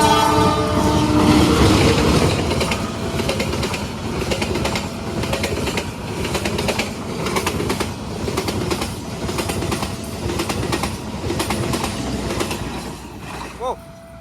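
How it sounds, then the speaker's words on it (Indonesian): The Arjuno Express passenger train, with stainless steel first-generation rear cars, passes the former Gunung Gangsir station. Its loud rumble and rhythmic clatter of wheels over the rails last throughout, and a horn blast sounds near the end. "Itu dia kereta api Arjuno Express telah melintas di X stasiun Gunung Gangsir ya."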